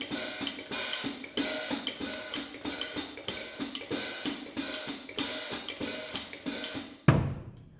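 Close drum groove with one splash and one closed hi-hat figure, a brisk steady stream of cymbal and drum hits in an even repeating pattern, finished by a single louder crash that rings out.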